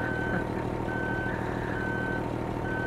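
A Shacman X3000 truck with a Cummins engine reverses, its steady reversing beeper sounding in repeated tones over a loud, continuous diesel rumble close by.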